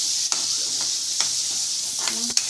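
Onion and garlic sizzle in a hot pan for a Marathi vegetable masala, a steady close hiss broken by a few stirring scrapes and knocks, with no talking.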